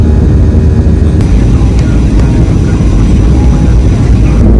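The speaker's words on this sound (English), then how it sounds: "We just took off from Tampa airport" Cabin of an airliner just after takeoff from Tampa, a loud, steady broadband engine and air roar filling the space with no break.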